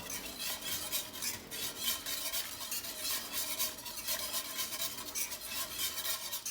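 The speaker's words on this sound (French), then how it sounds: "on fouette bien le fond pour pas que ça s'accroche" Whisk scraping and stirring steadily through a boiling brown sauce as cornstarch goes in, a quiet continuous swishing rub with faint bubbling and no talking.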